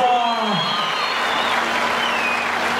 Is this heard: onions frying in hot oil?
no